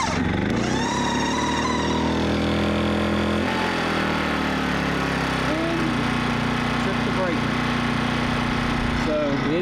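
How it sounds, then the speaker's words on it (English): A portable generator runs with a steady, loud droning hum that shifts slightly in pitch partway through, and a voice talks over it. "You can hear the generator running"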